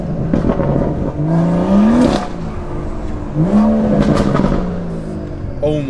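BMW M140i with a sports cat and double resonator delete, revving loud and close, its exhaust rising and falling twice in a crackling roar with no talk.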